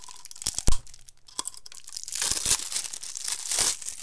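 A haul package is opened by hand, with close, loud tearing and crinkling of packaging, a few sharp rips early on and then a continuous rustling crackle.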